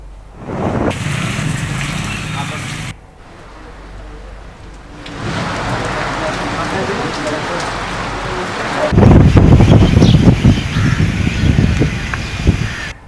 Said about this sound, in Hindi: तेज हवाओं के साथ ही साथ हो रही बारिश ने लोगों का जीवन अस्त व्यस्त कर दिया